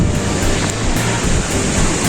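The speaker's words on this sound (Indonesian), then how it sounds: "mana ini anginnya kencang banget" Strong wind buffets the summit of Gede-Pangrango mountain at about 2958 m at night, a loud, steady broadband roar that never lets up across the whole stretch, with no voices.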